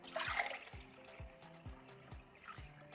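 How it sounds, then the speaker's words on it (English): Water is poured from a measuring cup into a pot of rice for cooking. A short splashing pour at the start gives way to a faint trickle and light drips. "So I'm putting 1 measure of water here."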